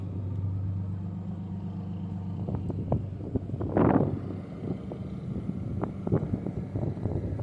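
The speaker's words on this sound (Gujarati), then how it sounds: "આપણી બોટ" A fishing boat's engine drones low and steady at sea while wind buffets the microphone, with a stronger gust and a few knocks partway through.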